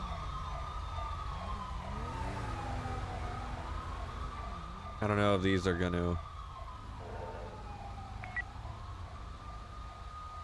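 A CHP police siren in the video game GTA V (LSPDFR mod) wails steadily in the distance with a brief burst of harsh electronic yelping in the middle, while a person speaks over it.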